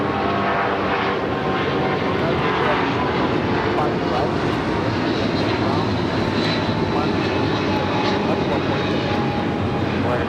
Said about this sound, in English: This is United Airlines 2086 taking off to Houston Intercontinental on the 777-200